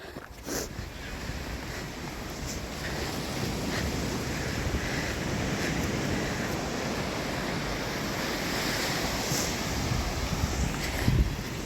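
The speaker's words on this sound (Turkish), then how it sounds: "Şimdi sahile iniyoruz. Deniz gözüktü." Waves wash continuously onto a beach near Ephesus under heavy wind rumble, a broad steady roar with no clear individual breakers.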